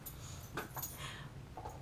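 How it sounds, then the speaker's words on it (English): Dogs in a house give a few short, muffled yips and whimpers, faint and brief against a steady background hum. "My dogs are so loud when I try to record."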